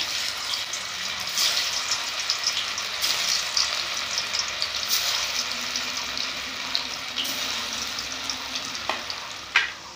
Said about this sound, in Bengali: এবারে মুইঠাগুলো ভেজে নিচ্ছি।